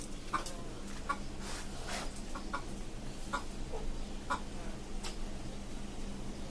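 Hens on a poultry farm cluck in short, scattered bursts, several nearby and others further off, with no talking.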